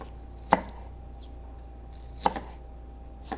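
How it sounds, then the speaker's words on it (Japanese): A kitchen knife chops vegetables for pickles on a wooden cutting board, giving three sharp, separate strikes spaced more than a second apart, close and clear with no talking. "包丁の音が違いますね"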